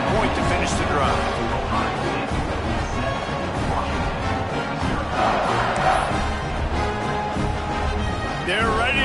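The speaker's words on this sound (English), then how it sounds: "this crowd is buzzing after that last score." A football stadium crowd roars after a touchdown, a loud sustained wash of cheering and shouting with a play-by-play announcer talking over it throughout.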